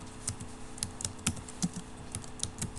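Computer keyboard keys are pressed in soft, irregular clicks, close and faint with no other sound.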